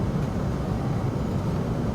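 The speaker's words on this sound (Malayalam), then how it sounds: "വിമാനം ജോൺ എഫ് കെന്നഡി ഇന്റർനാഷണൽ എയർപോർട്ടിന് മുകളിലേക്ക് എത്തിയിരിക്കുന്നു." A steady, broadband low rumble of an airliner cabin as the plane arrives over John F. Kennedy International Airport in New York, an unbroken engine and airflow drone without voices.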